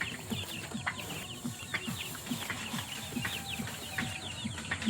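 Rhode Island chickens cluck in a repeated, busy rhythm on a farm, several birds close by and moderately loud with no talking.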